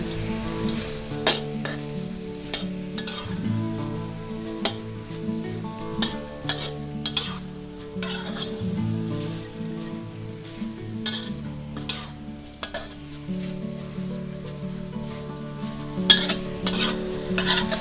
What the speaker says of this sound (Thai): คั่วไปเรื่อยๆนะคะ จนน้ำเขาแห้งซึมเข้าไปใน สามชั้นเลยค่ะ